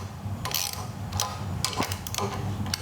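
A ratchet wrench snugs bolts on a chopper motorcycle being built in a workshop, giving off several close bursts of rapid pawl clicking with short pauses between strokes.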